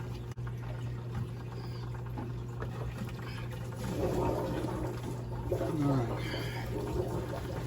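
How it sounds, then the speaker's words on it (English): A Fluval FX5 aquarium canister filter refills with water as its valves reopen after a motor replacement, a low steady gurgling rush of liquid under a constant hum, with a short spoken word near the start. "we can see here start filling back up as soon as we open the valves back up"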